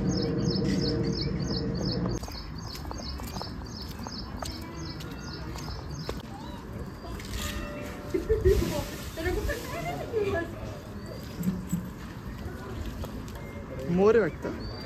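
A peacock calls near a hilltop temple on the Ghoradeshwar trek: a row of quick, high, repeated cries at first, then sharper calls later, all beneath nearly continuous talking and outdoor bustle.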